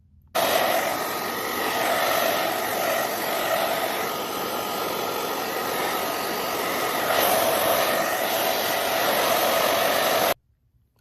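Hair dryer blowing steadily on a watercolor painting to dry it, a loud continuous whooshing roar close by that starts abruptly, runs about ten seconds with a slight shift midway, then cuts off.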